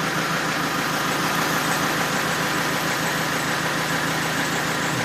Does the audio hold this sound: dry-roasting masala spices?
no